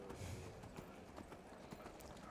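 A horse's hooves clip-clop over rocky ground in Skyrim, a steady series of quick, clattering hoofbeats at low volume with no talk over them.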